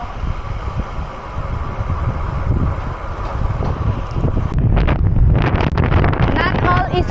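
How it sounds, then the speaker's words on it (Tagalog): Steady roaring wind buffets the microphone while cycling downhill on Route 111, growing stronger and gustier toward the end, with a person talking in Filipino under the rush. "lakas ng hangin. Uy! Hinahangin yung handlebar ko."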